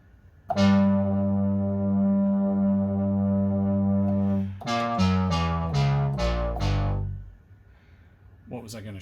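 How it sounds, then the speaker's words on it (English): Korg MS-20 analog synthesizer playing a long sustained buzzy note, then a run of short descending plucked notes, loud and close with no talking. "Love the sound of this synth."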